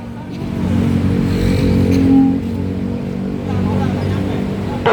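A car engine rumbles low and revs briefly at a student protest march outside the Attorney General's office, close and loud, with crowd noise around it.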